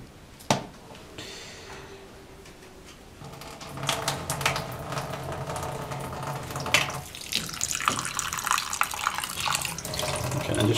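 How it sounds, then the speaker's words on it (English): Running tap water rinses egg white off, starting after a sharp knock and building into a steady, close, splashing stream over a sink for most of the stretch. "And just washing off the white of the egg."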